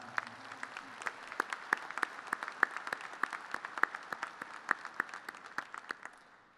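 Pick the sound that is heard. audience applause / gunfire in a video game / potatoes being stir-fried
audience applause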